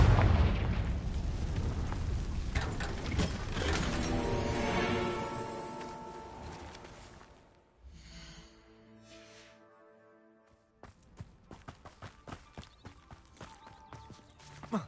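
A Confringo blasting spell goes off in Hogwarts Legacy, a loud dense burst with a bright rumbling tail that fades over several seconds, followed after a near-silent gap by scattered softer impacts and game sounds.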